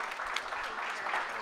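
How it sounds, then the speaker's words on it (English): A short stretch of steady audience applause for Julie at an Opportunity Coalition meeting, even and continuous clapping from a moderately sized crowd with no break. "Let's give Julie a round of applause"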